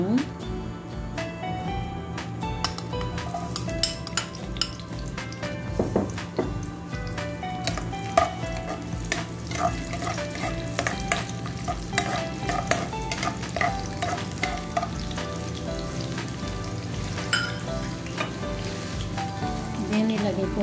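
Garlic frying in hot oil for a beef liver stir fry, a dense continuous crackling sizzle with frequent scraping and clinking of a utensil stirring in the pan, close and steady throughout.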